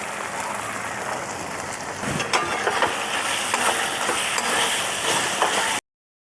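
Spices for Punjabi-style rajma sizzle and crackle in hot oil as they are fried and stirred in a pan, a steady dense hiss with scraping stirs, close and loud, cutting off abruptly at the end.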